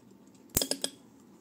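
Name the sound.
scissors snipping coffee plant shoots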